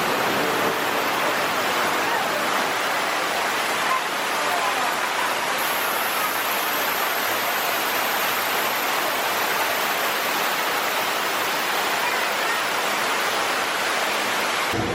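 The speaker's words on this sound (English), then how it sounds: "the highlight of Poseidon's Fury as far as I'm concerned, the water tunnel." Heavy rushing water roars steadily and loudly through the water tunnel of the Poseidon's Fury attraction, a dense continuous wash with no speech.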